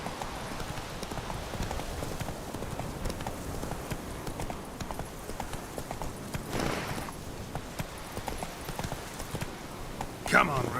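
Horse hooves clip-clop steadily at a walking pace as the horse Roach is ridden in the Witcher 3 video game, with someone talking over the steady footfalls.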